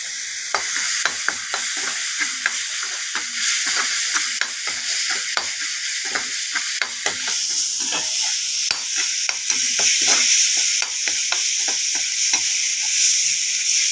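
A spice paste fries in oil in a pan for wedding-style raw banana fry (vazhakkai varuval). Repeated scraping stir strokes sound over a constant bright sizzle, close and fairly loud, with no talking.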